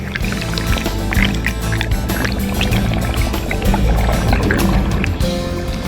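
Loud, close airboat running during a goose capture, its engine roar droning steadily beneath sloshing and splashing water, with no clear talk.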